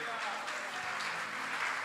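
Church congregation clapping together during a service, a steady wash of applause that fills the short stretch, fairly distant and soft, with a preacher's voice faintly under it.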